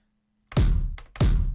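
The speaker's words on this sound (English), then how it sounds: "There's a really good stomp in here too that I really like." Two fat, punchy stomp drum hits from a music-production sample pack, each a heavy low thud with a bright attack, spaced about half a second apart and heard alone after a brief quiet start.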